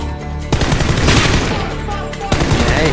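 Dense gunfire in the battle royale game PUBG, rapid loud shots and bursts packed together with a couple of sharper cracks standing out, continuous and close.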